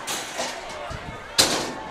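Door to the stairs of an upstairs press box at a high school football game slamming shut, one sharp loud bang standing out over crowd and room noise.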